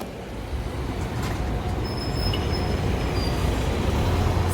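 A Panama City metro train rolls past in a long, steady rumble, with a brief high metallic squeal from the wheels partway through and a constant low roar throughout.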